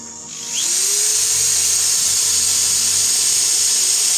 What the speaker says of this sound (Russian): Только ровно держи сверло.